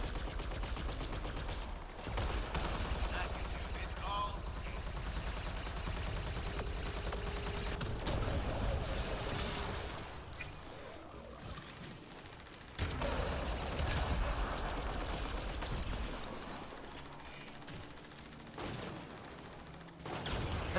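Sci-fi gunfire fills a Mass Effect Andromeda multiplayer match, with a Turian soldier firing a Cyclone and an Indra amid an enemy Destroyer: continuous rapid automatic bursts and mechanical clatter, dense and loud, breaking off abruptly partway through and then resuming.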